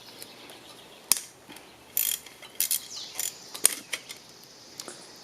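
A wrench ratchets on the screws of a Suzuki DR350SE motorcycle's headlight bracket, giving a string of short, close, clicking bursts with pauses between them and no speech.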